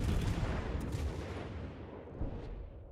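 Heavy naval gunfire in a World of Warships-style battle game, where a ship engages the battleship Texas and a Fuso: a dense, booming roar of cannon fire and rumbling blasts that stays loud throughout, with no voices.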